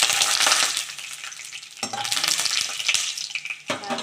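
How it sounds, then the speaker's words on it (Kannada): Peanuts frying in hot oil in a pan for chitranna, a steady broadband sizzle with a few stirring scrapes and bursts, close and fairly loud, no voices. "ಇದಕ್ಕೆ ಎಣ್ಣೆ ಸ್ವಲ್ಪ ಕಾದ್ಮೇಲೆ ಕಡಲೆ ಬೀಜ ಹಾಕ್ಕೊಂಡಿರಬೇಕು. ಇದು ಸ್ವಲ್ಪ ಫ್ರೈ ಆದಮೇಲೆ"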